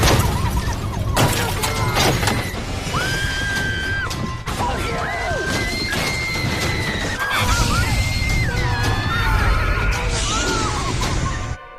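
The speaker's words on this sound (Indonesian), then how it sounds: "Kaca-kaca mobil dihantam satu persatu," Car windows smashed one after another in a horror film scene with clowns, heavy crashes and shattering glass mixed with screams, horse-like shrieks and tense music; loud and chaotic.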